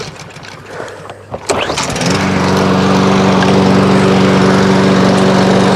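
A thrift-store Craftsman self-propelled lawn mower engine starts after a few handling clunks, then roars into a steady, loud, close running drone that holds without pause.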